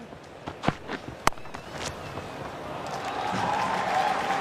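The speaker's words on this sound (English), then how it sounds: "as he just enjoys the rich applause that he deserves" Crowd noise at a cricket test match swells into steady, broad applause after a few sharp impacts and isolated claps, building to a sustained roar of clapping from a large audience.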